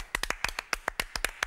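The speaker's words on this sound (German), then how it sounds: "Da müssen wir einmal Applaus." Applause from a small group, roughly a dozen sharp claps in an irregular patter over a second and a half, close and fairly quiet, with no voices.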